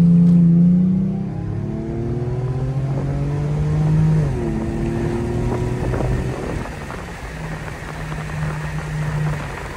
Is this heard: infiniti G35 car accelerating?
yes